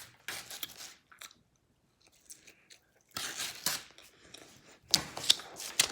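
Scissors snip through paper while cutting out a heart shape for a craft, giving crisp crunching cuts in short bursts with a pause in the middle, close and fairly quiet, without talk.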